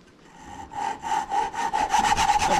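A hand saw cuts through wood to lengthen table legs, with a run of quick back-and-forth strokes that grow louder and faster, rasping close up with no talk.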